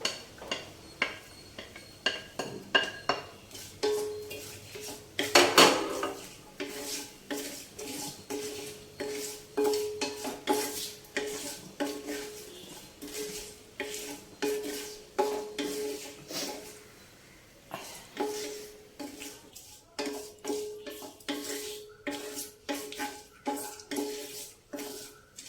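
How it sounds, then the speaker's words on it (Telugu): Chopped onions frying in hot tempering oil in a pan, with a spatula stirring and clinking against the metal in steady, repeated strokes, fairly faint and close, with a soft sizzle underneath. "ఉల్లిపాయ వేగిందండి."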